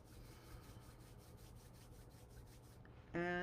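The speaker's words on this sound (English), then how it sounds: "rub our hands together" Palms rub briskly together in a quiet room, a soft, steady rhythm of dry friction strokes lasting about three seconds before a brief bright tone cuts in at the end.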